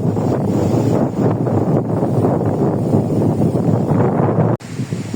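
Strong wind roars steadily during a storm in Punjab, with heavy gusts buffeting the microphone in a loud, dense rush that breaks off abruptly near the end.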